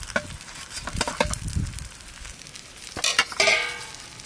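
Hot oil sizzles and crackles steadily while a catla fish head fries and is stirred, with scraping clinks of a utensil against the pan.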